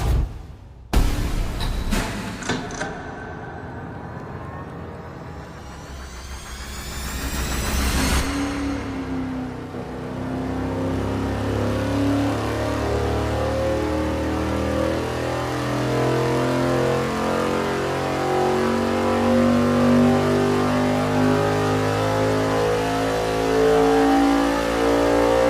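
A V8 engine fitted with Sniper EFI on a dyno starts with a few sharp blips, then climbs loud and steady through a long full-throttle pull that holds high revs to the end.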